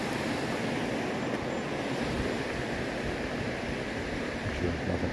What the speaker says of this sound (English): The water is a flowing, huh?